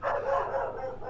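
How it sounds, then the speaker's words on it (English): Dogs barking somewhere nearby, a short muffled run of yelping barks blending together over about a second, fairly loud but slightly distant and indistinct. "there go the dogs"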